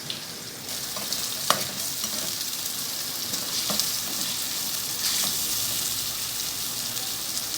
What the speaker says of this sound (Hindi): ये हमारा पेस्ट अच्छा सा फ्राई हो रहा है।